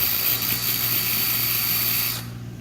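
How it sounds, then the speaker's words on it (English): A power drill spins a bolt against a grinder while working on a car's rear spoiler, giving a steady, loud high-pitched whine with a grinding hiss that holds for two seconds, then cuts out abruptly. "I put it in my drill, spin it forward, go up against the grinder."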